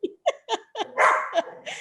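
Female dog barking in a home during a live show, several sharp close barks in quick succession followed by a longer yelping burst, loud and alone.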